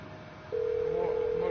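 A phone call is dialed in the video game GTA V: after a brief quiet moment, a steady electronic call tone begins and sounds continuously and clearly to the end.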